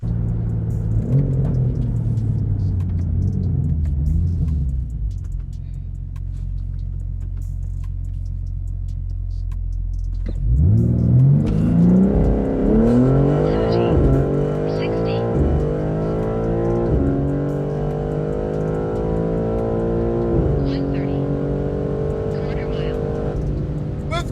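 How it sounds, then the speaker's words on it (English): An 850 hp BMW G82 M4 xDrive idles with a deep steady rumble, then launches in second gear into a loud climbing engine roar with rising pitch and gear changes, heard from inside the car under some talk. "I decided to launch in 2nd gear, and this is what I got."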